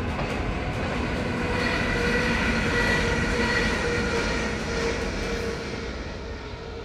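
A Dutch NS passenger train rolls past on the railway, a loud, steady broadband rumble and rail noise that continues without pause and eases slightly toward the end, with no voices.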